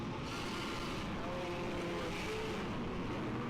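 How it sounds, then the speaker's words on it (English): Loud, steady roar of race car engines running together on the grid at the 2019 Dubai 24 Hours, a dense droning rumble with no talking. "the engines have just started and everyone is rolling"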